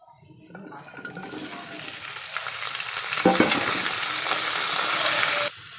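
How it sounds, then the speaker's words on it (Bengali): Cauliflower fries in white oil in a pan, the sizzle swelling from quiet to a loud, steady hiss with a brief stir in the middle before cutting off sharply. "ফুলকপিটা সাদা তেলে হালকা করে ভেজে নিয়ে তারপরে পেঁয়াজ আর কাঁচা লঙ্কাটা দিলাম"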